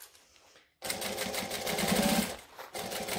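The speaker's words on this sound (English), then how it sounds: "We're going to stitch down." A sewing machine stitches down along a gusset, starting after a brief pause with a fast, close, buzzing whir that runs steadily, dips briefly, then resumes.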